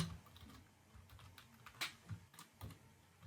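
Someone types on a computer keyboard while coding in Python, giving a quiet, irregular run of close key clicks with a few sharper taps and no talking.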